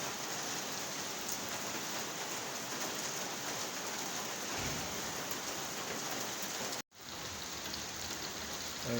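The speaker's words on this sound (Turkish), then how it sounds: "Bakın arabaların üzerine şiddetli yağışlar yağıyor." Heavy spring rain pours onto parked cars in Manisa, a dense, even hiss of drops drumming on metal roofs, continuous and close, with a brief cut near the end.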